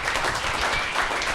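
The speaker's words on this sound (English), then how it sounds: "Everyone, round of applause for Hayden Dib." A live talk show audience breaks into a short burst of dense, steady applause for a guest, loud and continuous throughout the brief moment.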